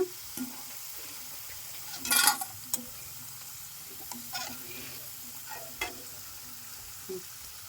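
Bitter gourd chips fry in hot oil and are stirred, giving a soft, steady hiss broken by a few sharp scrapes and clinks of the spoon against the pan.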